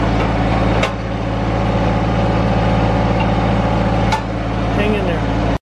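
Tractor engine idling during a barrel cactus transplant, a steady close diesel rumble with even low pulsing throughout, a couple of brief clicks or knocks cutting through, and no one talking.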